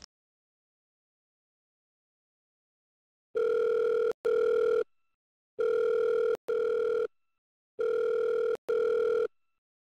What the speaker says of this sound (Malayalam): സാറേ നിജോ ഫോൺ എടുക്കുന്നില്ല